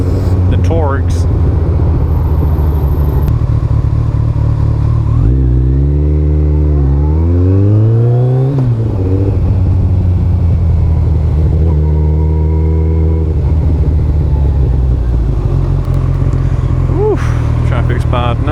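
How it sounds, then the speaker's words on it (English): Cars and motorcycles pass on a busy road, engines rising and falling in pitch as vehicles accelerate by, loud and close throughout with a steady traffic rumble beneath. "Traffic's bad now."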